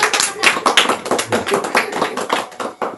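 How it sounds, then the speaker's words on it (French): A church congregation claps for the Lord in a close, lively burst of many hands, the claps dense and slightly rhythmic. "applaudissons pour le Seigneur"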